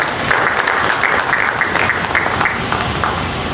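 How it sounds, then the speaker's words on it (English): A crowd at the Akwa Ibom Business and Leadership Convention applauds continuously, loud and dense throughout, with a few sharper individual claps showing through the wash. "Please a round of applause for him."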